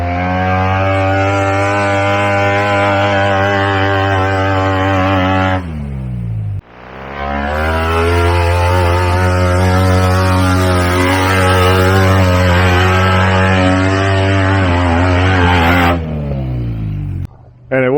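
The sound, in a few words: off-road tube buggy engine revving in mud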